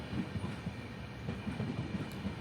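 The daily morning Guruvayur to Madurai train, running via Alappuzha with unreserved, 2S and CC coaches, rumbles past close by, a steady rolling roar with faint rhythmic clicks of wheels on the rails.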